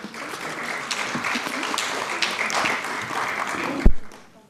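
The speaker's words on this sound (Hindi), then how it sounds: "हम दिल्लीवासी उनका स्वागत करते हैं, उनका अभिनंदन करते हैं तालियों के साथ" Warm applause from a concert audience at a Malhar classical music festival in a New Delhi auditorium, steady for about four seconds before a sharp thump and quick fade.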